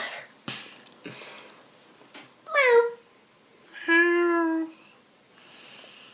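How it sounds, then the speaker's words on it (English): Two short, clear cat meows a second apart, quiet and close, with faint rustling and soft clicks around them. "Meow."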